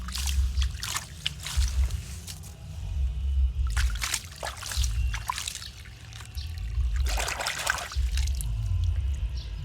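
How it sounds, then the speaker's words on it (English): Water trickles and splashes in uneven bursts, pouring into a small plastic toy truck close by, with a low rumble underneath. "I put some water."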